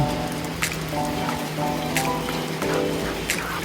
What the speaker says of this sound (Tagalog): Malakas yung ulan, oh.